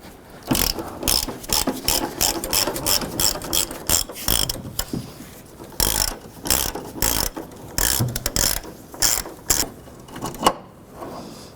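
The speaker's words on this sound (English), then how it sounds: "Using a 17 millimeter socket, we'll go ahead and start with that forward mounted bolt." A ratchet wrench with a 17 mm socket loosens an engine mount bolt on a 2006-11 Honda Civic. It clicks loudly and rhythmically in repeated bursts of rapid pawl ticks with short pauses between strokes.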